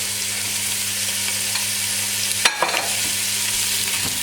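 Bacon bits sizzle steadily in a pot as the start of a potato soup, a dense continuous fry with a brief stir or clatter partway through, close and alone.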